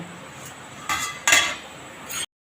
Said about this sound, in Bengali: আমি ঢাকনাটা খুলে দেখব